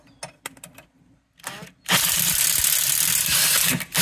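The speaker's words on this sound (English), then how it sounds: "I'm gonna use a 1/4 size drill bit to gradually get the hole bigger." Quiet clicks and handling noises, then a loud steady drill whine from a 1/4-inch bit enlarging a hole, running about two seconds, with a short burst at the end.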